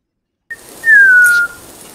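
A single clear whistled note, sliding slightly downward in pitch, held for about half a second after a brief click, over faint background hiss.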